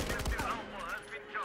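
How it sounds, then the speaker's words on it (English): Rapid gunfire rings out in a first-person shooter game, a burst of close, sharp shots layered with game sound effects, quiet overall and heard under a dense game mix. "Good shot, Puka."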